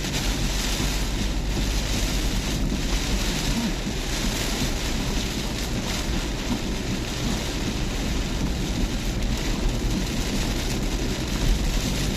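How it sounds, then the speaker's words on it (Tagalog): Steady, dense roar of wind and heavy rain from Storm Kristine, constant throughout with no voices, a broad rushing wash close to the microphone. "Lalong lumakas po yung hangin na ulan dito."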